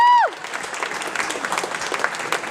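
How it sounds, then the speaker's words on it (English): Wedding guests clap for a toast, a moderate spread of applause starting right after a brief sustained tone cuts off, continuing steadily and fairly close. "Let's give Colleen a round of applause for that wonderful speech"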